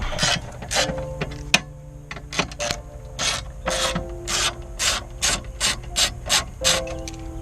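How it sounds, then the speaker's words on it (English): A hand ratchet loosens 7mm bolts under the glove box of a 2003 Mercury Marauder, close and loud: bursts of rapid metallic clicking in short repeated strokes, alone with no talking. "you're gonna see 2 black bolts, 7mm. You're gonna take those out."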